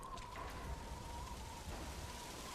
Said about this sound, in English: Now it's started to rain.